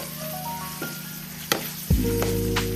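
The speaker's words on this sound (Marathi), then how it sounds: "कांदा आपला छान असा परतून राहिलो आहोत" Onion sautéing in a pan for moong phunke: a steady soft sizzle with a louder burst of frying partway through, with a few light stirring clicks and no speech.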